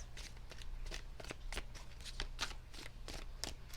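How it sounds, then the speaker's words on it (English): Tarot cards being shuffled by hand in quick rhythmic riffles, a steady run of crisp papery flicks and slaps close up, with no talking. "Two more shuffles."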